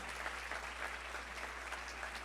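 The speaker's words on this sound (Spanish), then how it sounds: "A ver, fuerte aplauso" A church congregation gives a warm round of applause to welcome visitors at a live Sunday service, with steady dense clapping that fills the room.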